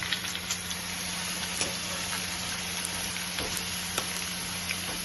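Vigorous sizzle of taro stolon frying in oil, constant and close, with scattered sharp crackles and pops from the hot oil throughout.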